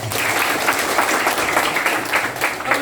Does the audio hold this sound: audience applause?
yes